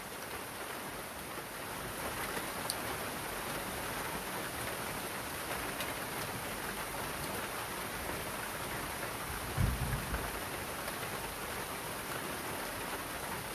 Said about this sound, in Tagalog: Na may kidlat.